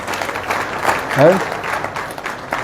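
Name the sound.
audience clapping at gathering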